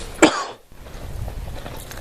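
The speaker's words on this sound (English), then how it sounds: "It's a cough." A single short, sharp cough close by in a cemetery, followed by faint low background rumble.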